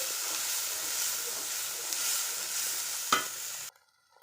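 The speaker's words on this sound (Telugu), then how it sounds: "ఈ పేస్ట్ కూడా ఇలా వేసేసుకొని చక్కగా ఫ్రై చేసుకోవాలి" Ground masala paste frying in oil for an egg gravy curry, giving a continuous close sizzle and hiss with one sharp clink near the end before it cuts to near silence.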